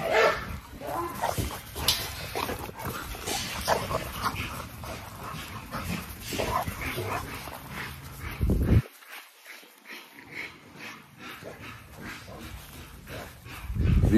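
Pit bull dogs bark and whimper close by in a busy, continuous stream of yips and barks, with a brief quieter gap near the end.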